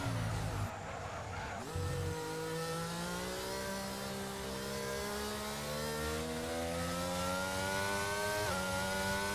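Race car in an iRacing-style sim racing game on a flying qualifying lap at the China GP, engine note rising steadily through the gears with a brief lift and upshift near the start and another late, loud and continuous with no talk.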